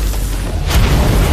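Animated aura explosion, a deep booming blast that swells suddenly partway through and rolls on as a heavy low rumble, loud and close.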